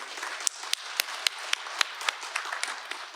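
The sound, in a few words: audience applause at meeting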